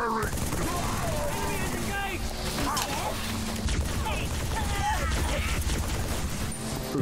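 Gunfire in the video game Halo 3, with dense rapid shots and impacts over a loud battle mix, while voices shout and talk over the top.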